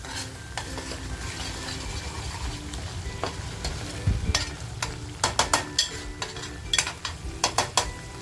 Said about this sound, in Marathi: मसाला आपला आहे ना आपलं तेल सुटेपर्यंत असा छान परतवून द्यायचे